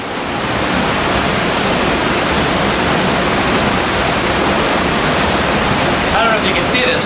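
Mountain river water surging up through rocks into a cave at Lost River in North Woodstock, New Hampshire, a loud, steady, dense rushing roar that fills the whole clip with no break.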